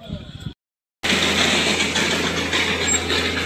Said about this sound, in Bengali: তো বাতাসিয়া লুপে ট্রেন চলে এসছে